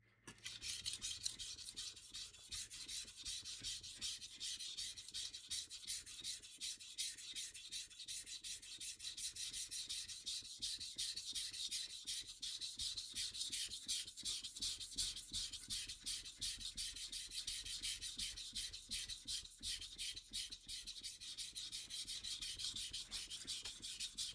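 Steel blade bevel rubbed back and forth on a 400 grit sharpening stone, a steady, continuous rasping scrape with fine rhythmic strokes, close and moderately quiet, with no voices.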